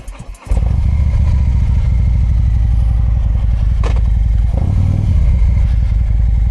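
Harley-Davidson motorcycle starting up: a brief crank catches within half a second, then the engine settles into a loud, close, lumpy idle with slight rises in revs.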